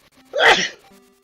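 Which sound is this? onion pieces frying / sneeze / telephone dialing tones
sneeze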